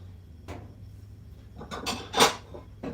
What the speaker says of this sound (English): Let me grab a bowl